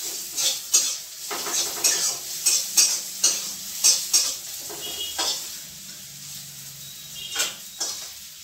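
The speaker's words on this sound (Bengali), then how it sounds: "করলা ভাজা হয়ে গেছে" Bitter gourd frying in a pan, with a steady sizzle under repeated scraping stirs of a utensil against the metal, close and fairly loud, no talking.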